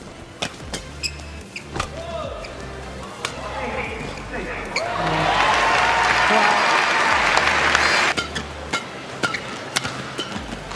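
A crowd breaks into sustained applause at an All England Open badminton match, swelling midway and then fading. Shuttle hits and squeaking shoes come before and after, and a commentator talks over it.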